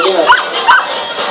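An 11-month-old dog in a pirate costume at a canine show in Village Plaza, Samborondón, gives two quick, close, high yipping barks over crowd noise.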